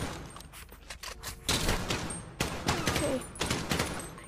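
Rapid bursts of gunfire in GTA crackle in loud, dense volleys, with sharp repeated shots clustering into sustained fusillades and a brief word spoken between them.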